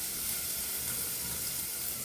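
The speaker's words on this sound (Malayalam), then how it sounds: "ഉള്ളി ഇട്ട് കൊടുത്ത് അല്പം ഉപ്പിട്ടിട്ട് നല്ലോണം ഒന്ന് വഴറ്റിയെടുക്കാം നമുക്ക് കേട്ടോ." Onions sautéing with salt in a pan, giving a steady, even sizzle of frying that runs close and continuous throughout with no voices.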